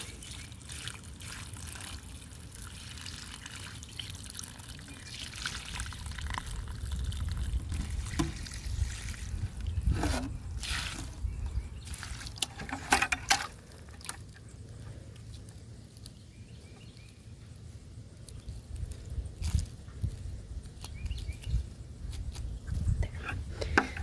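Water from a hose or can trickles and splashes onto a garden plant outdoors, a soft, uneven pouring that rises and falls over about twenty seconds with occasional louder spatters and no talk.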